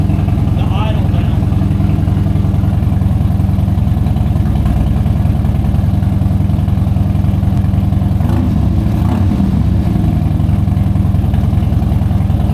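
A motorcycle fitted with a superbike exhaust idles loudly and high with a deep, throaty exhaust rumble, steady throughout with a slight clatter and a brief rise in revs.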